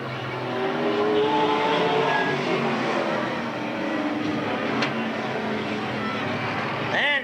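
Race cars circling Eugene Speedway in a multi-car race, engines droning steadily with some passing swells, heard at a distance under a race announcer calling positions.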